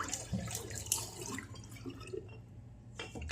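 Water runs and drips from a tap while shaving soap is rinsed out of a brush at a sink, an irregular splashing trickle at close range, fairly quiet and with no talking.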